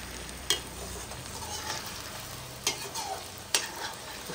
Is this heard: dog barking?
no